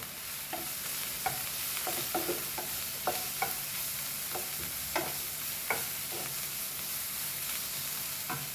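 Egg bhurji frying in a pan with coriander, with a steady close sizzle and intermittent scraping stirs of a spatula throughout, no voices.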